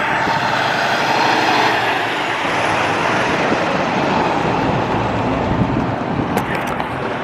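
A truck passes on a nearby road, a loud, steady broadband rumble of engine and tire noise that fills the whole stretch and swells and eases slightly without any talking.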